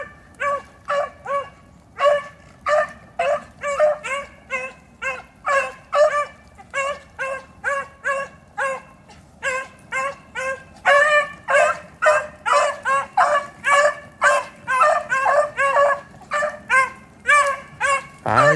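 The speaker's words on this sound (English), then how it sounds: "Let's see how the dogs do." Hunting dogs bay and yelp in rapid, steady bursts as they chase a rabbit through the rain in Delaware on the last day of the season, several voices overlapping fairly close and growing denser toward the end.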